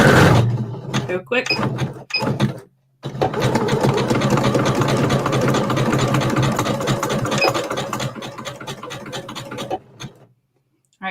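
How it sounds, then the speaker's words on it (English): A sewing machine back stitching through rope runs in a steady close whir for several seconds after a few short starts, with brief talk near the beginning. "I'm going to back stitch"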